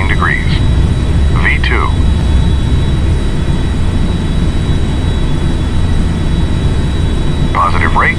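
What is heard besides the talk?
jet airliner taking off in GTA flight simulator video game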